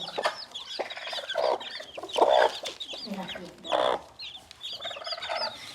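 Hen clucking repeatedly in a village poultry setting, a series of close, moderately loud clucks and squawks in uneven bursts with quieter gaps between them.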